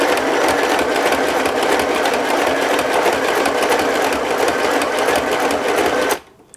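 A sewing machine run at low speed with no presser foot, loaded with orange thread, stitches along the edges of a painted canvas journal, making a steady, continuous close whir that stops abruptly near the end.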